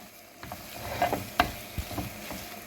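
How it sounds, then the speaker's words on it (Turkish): Flour halva roasting in a pan while being stirred, giving soft scraping clicks and a faint sizzle over a quiet background. "Arkadaşlar helvamız yavaş yavaş kavruluyor."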